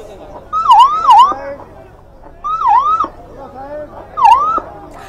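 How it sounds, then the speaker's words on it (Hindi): An ambulance siren wails in repeated rising-and-falling bursts outside a tunnel rescue site, fairly close, with murmuring voices underneath. "एम्बुलेंस की आवाज हम सुन पा रहे हैं"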